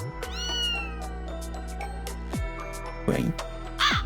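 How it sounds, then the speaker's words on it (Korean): Cat meowing in the video game Blue Archive, a few clear meows with a rising, bending pitch over a steady low hum of background music, with brief sharp game sound effects later on. "고양이"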